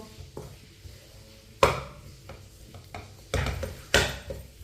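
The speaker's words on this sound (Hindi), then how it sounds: "इसे ऐसे ही चम्मच चलाते हुए गर्म करना है।" A spoon stirs dates warming in a pan over a low flame, making irregular close knocks and scrapes against the pan with a few sharper clatters and no talk.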